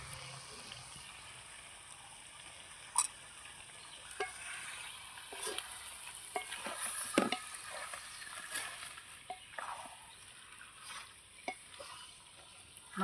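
Meat being stir-fried in a pan with chilli powder and turmeric, a soft steady sizzle with scattered scrapes and clicks of a spatula, close but quiet.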